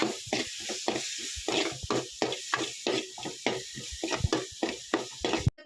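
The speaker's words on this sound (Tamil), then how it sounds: "இனி கிண்டி கொடுக்குறாங்க." A tomato and spice mixture sizzles in a pan while being stirred, with rhythmic scraping strokes roughly twice a second over a continuous hiss, close and moderately quiet.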